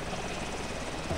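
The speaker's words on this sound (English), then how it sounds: "He's bringing in some troops on the chopper." A military helicopter in Arma 2 bringing in troops, a continuous dense rotor-and-engine wash droning steadily at moderate distance without breaks.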